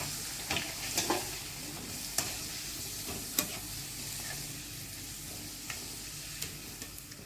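A batter-dipped sweet snack fries in hot oil, a steady bubbling sizzle broken by several distinct clinks and taps of a utensil against the pan, no talking.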